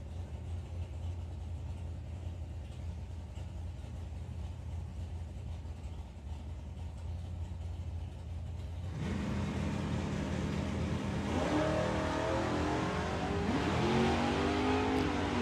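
Pete Dodd's drag racing car launches down the strip at the STP Summer Nationals, a sudden loud engine roar breaking in after a low idle rumble and climbing in pitch as it accelerates away.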